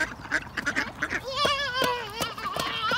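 Ducks at a pond quack repeatedly in quick, overlapping bursts, close and fairly loud, with a rising run of nasal calls in the latter half and faint background noise.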